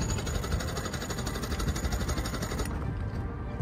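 An old outboard engine on a sailboat cranks over with a newly installed starter and solenoid, giving a steady, dense mechanical churning that shifts slightly near the end, continuous and fairly loud with no talk.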